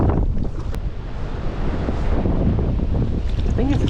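Strong wind gusts battering the microphone beside a Lake Michigan tributary during salmon fishing, a loud roaring rumble with rushing water beneath and a brief voice near the end.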